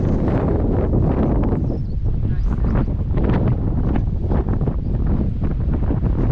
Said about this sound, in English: And a bit windy today.